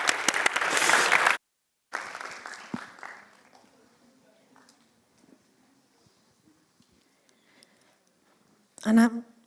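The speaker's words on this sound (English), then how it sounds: "A big applause, please." Audience applause at a live conference event, a loud burst of clapping at the start, then a gap followed by quieter crowd noise and murmuring, with another short loud burst near the end.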